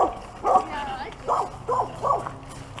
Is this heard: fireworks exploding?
no